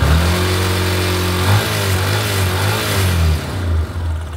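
A Yamaha Lander 250 motorcycle with a battery-charging fault revs hard toward the redline, its engine note climbing and falling loudly before settling back, close to the microphone.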